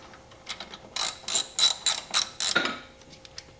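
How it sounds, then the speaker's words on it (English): Ratchet tightening the 13 mm bolt on the battery hold-down bracket of a 2017 GMC Acadia, heard as a close run of about six crisp clicking bursts in a steady rhythm. "Now I'm going to go ahead and tighten down the bracket here"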